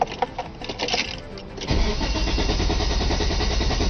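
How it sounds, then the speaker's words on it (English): A 1998 Nissan Maxima car engine cranks with a starter whir, then catches and settles into a loud, steady running rumble, close by with no talking. "This is my car trying to start."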